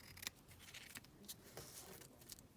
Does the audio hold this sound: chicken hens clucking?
no